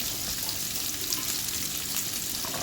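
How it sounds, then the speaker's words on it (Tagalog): Squash and bitter gourd stirred through garlic-flavored oil for pinakbet, giving a steady, close frying sizzle with soft scraping of the spoon throughout, no voices. "Tapos ihalo na po natin yung gulay, yung kalabasa at ampalaya"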